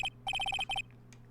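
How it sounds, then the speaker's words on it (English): A cell phone ringtone in the Ace Attorney video game plays a quick, bright electronic trill in short bursts, one brief note then a rapid run of repeated beeps and a shorter group, clear and alone. "And what's the stupid sounding ringtone?"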